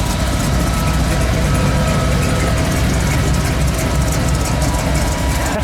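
A 1985 Ford F150 engine with a new custom side-pipe exhaust idles steadily, a loud, continuous low rumble with constant texture and no talking throughout.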